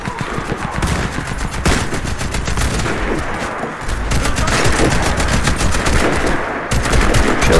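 Heavy H&K MG4 machine gun firing in the shooter game Warface, loud sustained automatic bursts with rapid rhythmic reports and a brief pause, close and dense throughout.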